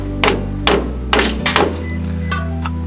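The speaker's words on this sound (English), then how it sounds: "I'm going to be using this intercooling tube to evenly hammer it in." Several sharp metallic knocks as a pinion seal on a Dodge Ram 2500 Cummins Dana 70 axle is hammered in with a metal intercooler tube, struck at an uneven pace, close by, with a low steady hum behind.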